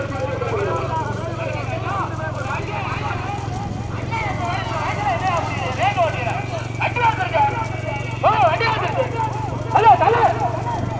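Racehorses galloping in a traditional Tamil village race near Aranthangi, steady clip-clop under continuous loud crowd noise and an announcer's voice over a constant low hum.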